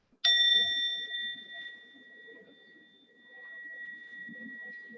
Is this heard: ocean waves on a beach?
no